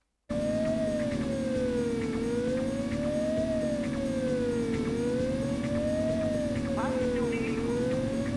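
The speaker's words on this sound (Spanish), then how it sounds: "Parece una ambulancia de la policía" Police ambulance siren in the PS1 driving game Driver 2, a steady slow wail rising and falling over a loud constant engine drone.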